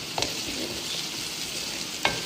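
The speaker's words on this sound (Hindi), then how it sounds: "अब हमारे लहसुन अदरक थोड़े भुनेंगे, थोड़ी सी खुशबू छोड़ेंगे" Garlic and ginger frying with onions in a pan give a steady, even sizzle, with a couple of sharp clinks from stirring near the start and end.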